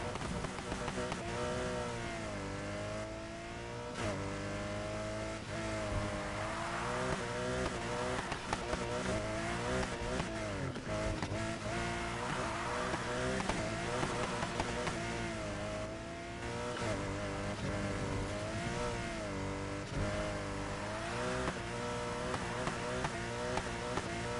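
Race cars in Need for Speed Heat, a Porsche and a Pagani, roar and rev continuously with shifting engine pitch and occasional tire squeal, loud and steady throughout with faint voice in the background.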